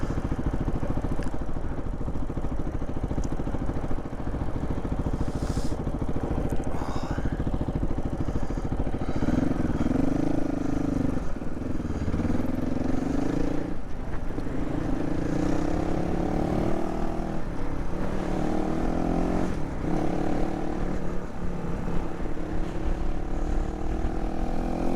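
A 2022 GPX Moto FSE450R motorcycle ridden on a city street, its engine droning steadily with rising and falling pitch through gear changes, continuous and close under wind rumble.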